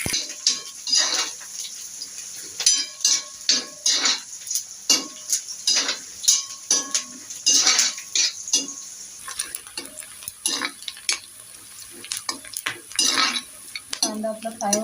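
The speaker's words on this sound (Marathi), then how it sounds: "कांदा आपला फ्राय होत आला आता गोल्डन।" Onions fry golden in a pan for a cashew-nut vegetable dish, giving soft sizzling and repeated scraping stirs with a spoon clinking against the metal pan, loud and close with no talk.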